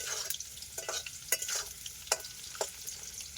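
Food fries on a wood-fired brick stove, a steady hiss and crackle broken by sharp metal spatula scrapes and knocks in an irregular rhythm, close and moderately loud with no talking.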